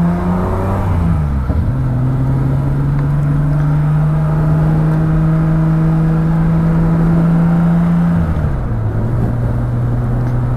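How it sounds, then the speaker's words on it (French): A car's engine holds a steady loud drone during a drift session, pitch sliding up early, sustained high for several seconds, then dropping back near the end, with no talking. "Yo les gars, c'est parti pour la session de drift."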